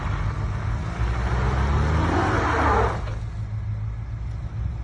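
An off-road car engine on an Istanbul trail swells as the driver gives throttle, rumbling louder for about two seconds before easing back to a steady low drone, close by with no talking.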